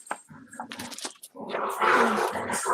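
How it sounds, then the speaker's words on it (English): Dogs, including one named Lucy, growl and snarl in rough play, with bursts of fierce, throaty noise that swell louder toward the end, mixed with a voice speaking nearby. "Sounds like vicious mad dogs back there."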